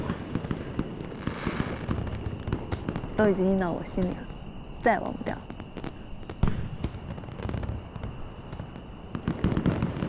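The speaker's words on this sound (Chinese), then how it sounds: "有机会看到这些独一无二的烟花" Fireworks burst in a string of sharp pops and cracks at irregular intervals while people talk over them.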